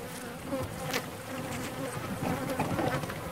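Honeybees buzz steadily close around a beekeeper splitting hives, a dense continuous drone with individual insects passing near the microphone.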